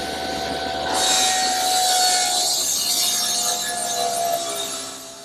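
A table saw rips leftover wood scraps into cross pieces for a rocking horse, a loud continuous whine and roar lasting several seconds, with a steady hum under it and no voices.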